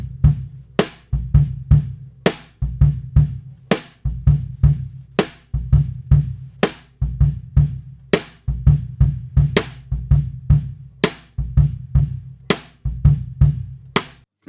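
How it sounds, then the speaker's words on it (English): A drum kit in a home studio, captured by two ribbon microphones, a new AAA and an old B&O, plays a steady groove of punchy kick and snare hits with crisp cymbal strikes, loud and close, with no talking. "Basically, if I turn on these two ribbon mics,"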